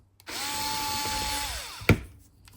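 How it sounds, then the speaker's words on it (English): A power drill gently turns out small T8 Torx screws from a Dyson Gen5 cyclone, giving a close, moderate whir of about a second and a half that stops with a sharp click. "All T8s, we're going to use our drill, just be gentle."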